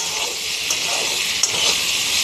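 Chopped tomatoes fry in a pan for a curry with small fish, giving a steady bright sizzling hiss close up, with faint stirring ticks and no talking.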